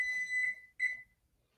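Two electronic beeps from a coffee brewing timer, a long high tone then a shorter one after a brief gap, clear and alone in a quiet room.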